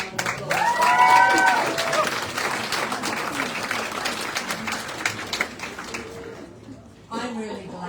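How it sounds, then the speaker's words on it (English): Audience applause at an evening art prize ceremony, a steady wash of clapping from a crowd that holds through most of the stretch and fades near the end, with some talk and a brief whistle-like tone mixed in. "So how about a loud round of applause?"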